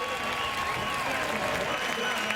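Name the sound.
crowd cheering at NHRA drag race finals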